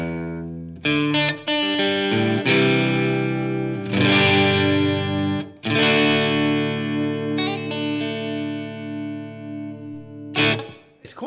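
Electric guitar fitted with Gibson 57 Classic pickups in a PRS body, strummed with a crunchy, overdriven tone in sustained chords and short stabs, loud and up close without talking.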